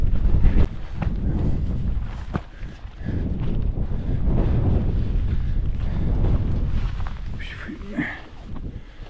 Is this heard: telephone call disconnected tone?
no